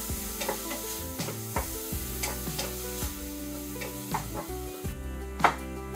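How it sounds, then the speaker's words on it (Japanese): Chopped onions sauteing in a pot over medium heat, a gentle steady sizzle with repeated light stirring taps and scrapes at an irregular rhythm, close and alone. "そして刻んだ玉ねぎを鍋に入れます。 透明になるまで中火で炒めていきます。"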